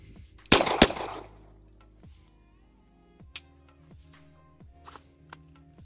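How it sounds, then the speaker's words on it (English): An M9 pistol fires two rounds at a target in quick succession, two loud, close, sharp cracks followed by fainter clicks and holster handling sounds. "you're gonna draw it, fire two rounds into the target."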